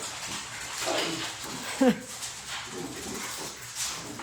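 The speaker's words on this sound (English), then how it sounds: "the dogs are gonna bark, here they go" Dogs bark inside a home, with a short, sharp burst of barks near the middle against ambient room noise.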